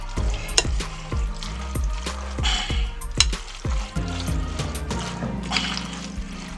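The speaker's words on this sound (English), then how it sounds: "we're going to mix this little bit of mayonnaise up in here" Mayonnaise being stirred into a macaroni ham salad, with repeated wet, sticky squelches and scraping strokes of a spoon against the bowl in a steady rhythm, close and fairly loud, with no talking.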